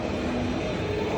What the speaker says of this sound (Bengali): ট্রেন লাইনে বাচ্চাদের বিনোদনের আরেকটা মাধ্যম।